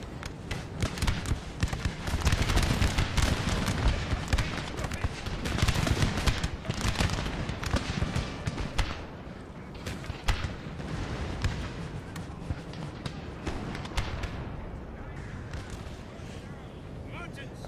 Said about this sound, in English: the cannons are firing over here